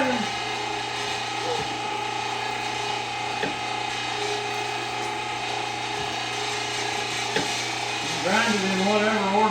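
A meat grinder working through meat and jalapeños for jalapeño cheddar sausage, giving a steady mechanical whir with faint rubbing texture, while people talk over it nearby.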